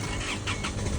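A Chevrolet Colorado pickup's engine cranking and catching, with a loud, close, broadband mechanical rush across a single second.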